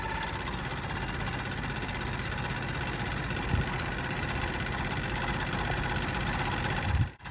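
A Dunlap scroll saw fitted with a cheap Harbor Freight blade runs continuously with a steady mechanical hum and rapid vibration, close and even in level, then cuts off abruptly at the end.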